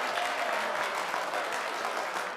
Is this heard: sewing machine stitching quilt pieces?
no